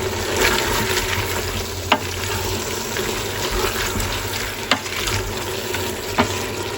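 Chili con carne meat sizzling steadily in a pan with salt, pepper, oregano and cumin, stirred throughout, with a few sharp spoon knocks against the pan over the continuous frying hiss.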